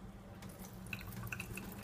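Water drains and drips from soaked wheat sprouts being emptied, a faint, steady trickle with scattered small drips, close by and without talk.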